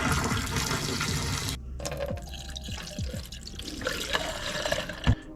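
RV antifreeze is poured into a toilet bowl, a steady liquid splash that stops, followed by scattered drips and small gurgles close by.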